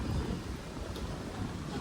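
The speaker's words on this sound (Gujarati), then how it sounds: "બહુ જ પવન ફૂંકાઈ જાય, વાવાઝોડા છે" Strong wind in stormy, rainy weather buffets steadily and loudly, a constant rough roar across the whole stretch with no talk over it.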